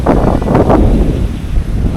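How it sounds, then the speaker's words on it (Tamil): Strong storm wind gusts outdoors near a village, a loud, rough rush of air buffeting the microphone with rustling, continuous for two seconds with no talk. "நல்ல தற்போக்க சூழ்நிலை உங்களுக்கு நல்லா காற்று கிடைக்கிது"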